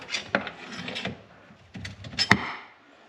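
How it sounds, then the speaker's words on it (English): A bolt scrapes and rubs as it is drawn out of a KYB shock mount on a Ski-Doo RMotion suspension, with washers and plastic spacers around it: a few short, close scraping bursts separated by quiet gaps. "So once you pull this bolt out"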